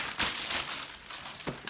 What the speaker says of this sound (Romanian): ce îmi place să pocnesc din pungile astea cu aer